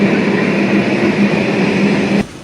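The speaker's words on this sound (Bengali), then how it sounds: "ঈশ্বরদী জাংশন থেকে ট্রেনটি ছেড়ে দেওয়া হবে।" A WDM3D diesel locomotive hauling the Rupsha Express at Ishwardi Junction gives a steady, loud rumble with a sustained engine tone, cutting off abruptly near the end.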